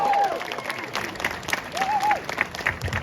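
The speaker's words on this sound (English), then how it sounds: "Big cheer for the little man." Applause and cheering from a crowd in an indoor car-show hall, greeting a 13-year-old car owner, a dense continuous clatter of clapping with a couple of whistles riding over it.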